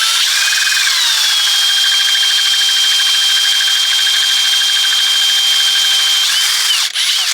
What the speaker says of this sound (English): This is painful to drill because it's so crummy.